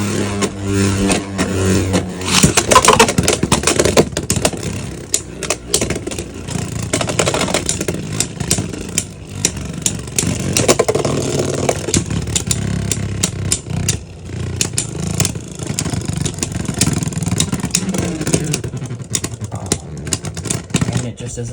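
Beyblade spinning tops clashing in a stadium, a Rock Leone against an Eldrago, producing a continuous loud scraping, clattering whir with dense metallic impacts throughout and no clear pauses.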